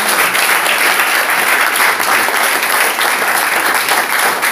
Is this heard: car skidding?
no